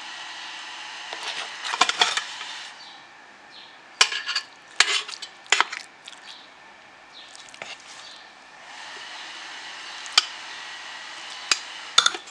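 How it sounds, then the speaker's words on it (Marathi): Cooked chana dal filling for gur puran poli being cranked through a puran yantra grinder gives close, metallic clanks and scrapes in irregular clusters, separated by quieter stretches. "त्या पुरण यंत्रात मी हे व्यवस्थित वाटून घेते"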